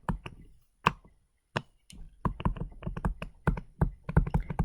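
Chalk or marker writing on a classroom board during a polynomial function composition lesson: a run of short, close taps and scratches in quick irregular bursts, with brief pauses between strokes and no speech.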